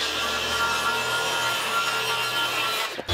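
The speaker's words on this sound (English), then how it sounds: "I'm going to mark out the plywood slightly oversized and break it down using a circular saw." A circular saw cuts through plywood being broken down for a buffer build, giving a loud continuous grinding whine that holds steady for about three seconds before stopping abruptly.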